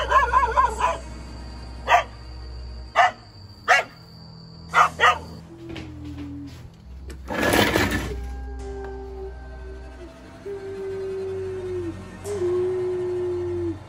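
A dog outside a house gives a series of sharp, separate barks at a steady pace, then falls quiet. Afterward come a loud rustling burst and some faint whining, high tones.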